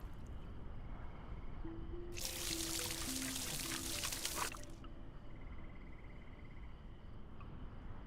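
Water scooped and poured in a VR game, a two-and-a-half-second burst of bright splashing and trickling that rises out of a quiet hiss and stops suddenly, close and alone.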